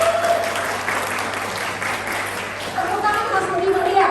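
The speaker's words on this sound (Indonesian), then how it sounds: "Tepuk tangan Mas Budi Maria" Steady audience applause at a collagen health talk, a continuous wash of many hands clapping at even loudness from a sizable crowd, with a faint tonal hum underneath.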